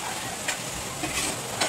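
Chana masala stirred in a pot after fresh coriander leaves go in, a low steady simmering hiss broken by three soft scraping strokes of a spoon, close and fairly quiet.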